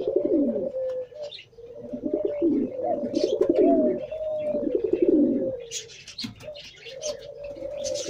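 Teddy pigeons coo repeatedly in low, throaty rolling phrases, close to the microphone, with lighter chirps from other birds in the background.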